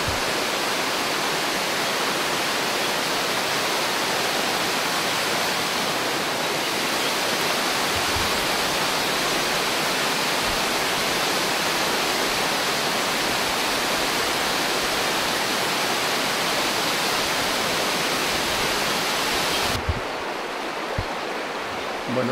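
The Paz river rushes beneath a hanging bridge in Palacioruiz, a loud, steady, broadband roar of flowing water close by that continues unbroken and drops away abruptly near the end.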